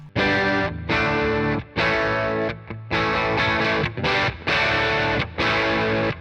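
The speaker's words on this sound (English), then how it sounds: "for a fuzz pedal, that sounds brilliant" Thick, buzzy electric guitar through a Bigfoot Engineering King Fuzz pedal plays chunky chords in bursts, each phrase cutting off sharply before the next, loud and up close.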